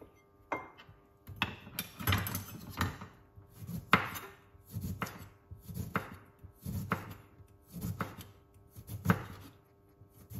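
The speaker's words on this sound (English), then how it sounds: "I cut it into some slices and I just put it into the liquid like that." A knife chops through a lime on a cutting board, about nine firm, evenly spaced cuts close by with no talking.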